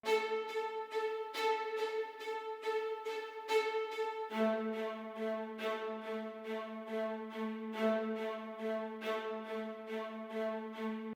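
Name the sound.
staccato strings layer in a beat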